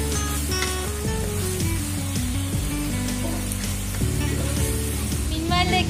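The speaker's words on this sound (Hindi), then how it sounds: "अदरक लहसुन को भी थोड़ा सा फ्राई करूंगी" Ginger garlic paste frying with onion in a pan for a mixed vegetable dish with kasuri methi, a loud steady sizzle with spatula stirring throughout.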